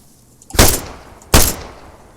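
Two loud gunshots from the video game Arma 3, fired at a civilian, about three-quarters of a second apart, each a sharp broadband crack with a short decaying tail.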